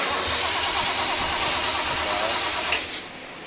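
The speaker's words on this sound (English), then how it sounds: "You can hear the engine is heavy, very heavy. Can't even start now." Flooded L30 straight-six in a 1977 Datsun 280Z cranks hard with a dense, strained whirring under heavy load, failing to catch, then tapers off near the end; close and loud, no voices.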